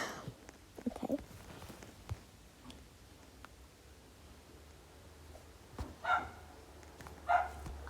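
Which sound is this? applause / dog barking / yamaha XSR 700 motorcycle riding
dog barking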